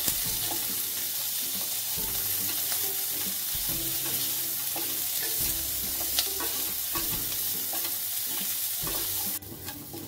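Potatoes frying in a pan for a sabudana snack, with a loud, continuous hiss of oil and repeated scraping strokes of stirring throughout.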